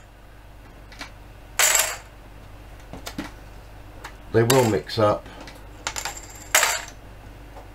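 Coins are tossed into a container for a classroom half-life radioactive decay simulation, giving several bright metallic clinks and jangles in separate bursts, close and fairly loud, with a brief spoken phrase in between.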